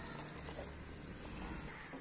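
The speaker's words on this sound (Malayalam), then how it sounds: "നമുക്കിതിലേക്ക് ഇനി ആവശ്യത്തിന് വെള്ളം ഒഴിച്ചു കൊടുക്കാം" Water pours into a ground lemon mixture as a faint, steady stream that runs unbroken for about two seconds.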